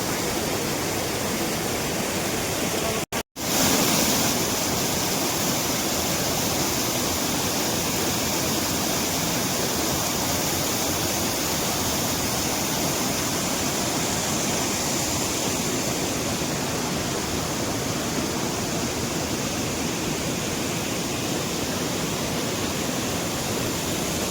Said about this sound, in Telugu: ఇక్కడ నీళ్ళు పడుతున్నాయి కదా సౌండ్కి వినిపించట్లేదు